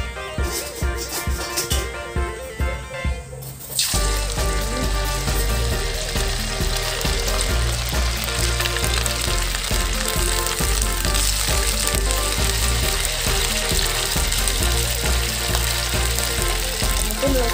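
Fish frying in hot oil in a pan, a loud continuous sizzle that starts suddenly after a few seconds of quieter kitchen sounds and then holds steady, close and dense throughout.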